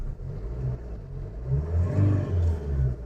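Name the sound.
Maruti Suzuki Ciaz car engine running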